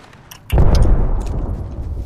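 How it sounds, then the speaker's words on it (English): An Arcstar grenade detonating in Apex Legends: a sharp, loud boom hits suddenly and rolls into a rumbling tail, with faint game sounds before it. "Throwing Arcstar."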